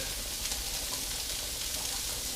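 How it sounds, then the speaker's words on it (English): Steady hissing sizzle of salted cucumbers and onions frying in a pan, continuous and fairly close, with no talking. "Alright, so that's frying up."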